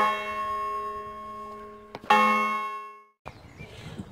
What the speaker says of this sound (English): Let's give it a ding dong, shall we?